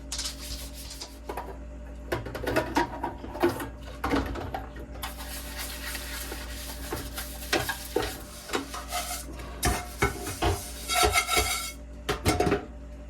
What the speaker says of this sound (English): So now we can just do the dishes in the sink